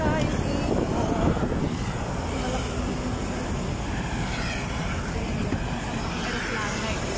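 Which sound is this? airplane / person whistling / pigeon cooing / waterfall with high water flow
airplane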